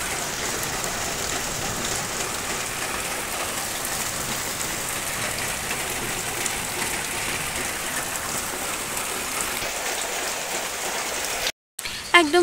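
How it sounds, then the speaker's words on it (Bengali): Steady rain falls in drops onto surfaces after a storm, a dense, even patter that continues without a break. It cuts out briefly near the end. "এদিকে একটু টিপ টিপ করে বৃষ্টি পড়ছে ফোঁটা ফোঁটা"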